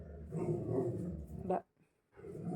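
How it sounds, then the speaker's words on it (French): A dog barks and growls close by in a sustained burst, breaks off into a short silence, then starts barking again, with a person's voice faintly audible under it. "c'est le chien. Il a dû voir une mouche ou un papillon"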